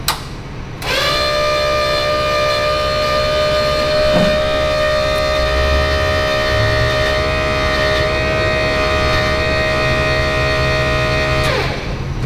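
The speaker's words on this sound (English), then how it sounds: "when you flip the switch on, the scavenge pump will run for 10 seconds" Holley-controlled scavenge pump in a race car switching on and whining at a steady pitch for about ten seconds, then cutting off, loud and close with no talk.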